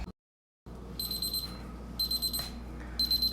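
An oven timer signals that cooking is done with short, bright electronic beep bursts, three of them spaced about a second apart, ringing out alone in a quiet kitchen after a brief silence.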